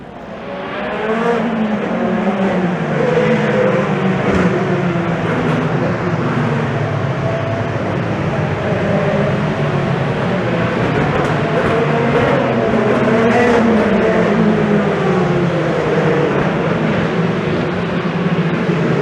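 Race cars lapping the Honda Indy street circuit in downtown Toronto, heard from a hillside spectator spot as a steady, dense engine roar with overlapping passes, fairly loud and continuous with crowd and city wash, no talking.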